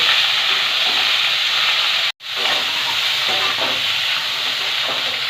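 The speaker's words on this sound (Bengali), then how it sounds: "ঝিঙেটা হালকা করে ভেজে নেব।" Ridge gourd fries in mustard oil in a hot wok, giving a loud, continuous sizzle and hiss that cuts out for a split second, then resumes just as strongly.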